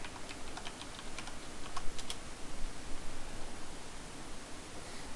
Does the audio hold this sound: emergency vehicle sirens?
no